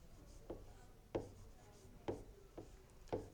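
Pen or chalk writing out geometry figures during a maths lesson, five short scratchy strokes spaced roughly half a second apart, quiet and close with no talking.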